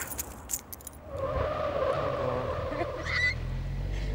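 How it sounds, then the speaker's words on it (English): Car keys for a tidy Citroën Saxo jangle in quick bursts during the first second, then a steady rumble of engine and road noise takes over. "Keys."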